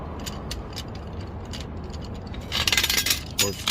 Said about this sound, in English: you'll crank this counterclockwise, and that'll lower your jack down like so